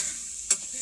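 Chicken pieces frying in a pan for curry, with a faint steady sizzle and a single brief stirring scrape partway through.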